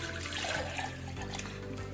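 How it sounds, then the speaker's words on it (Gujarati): Jaggery water is poured into a mixer jar for a homemade sugarcane-style juice, giving a steady, close liquid splash and gurgle that lasts about two seconds, with no talking. "આપણે તેને મિક્સર જારમાં એડ કરી દઈશું."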